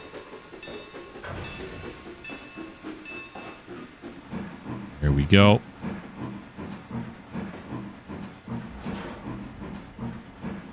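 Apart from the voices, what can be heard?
train passing in Trainz 2022 video game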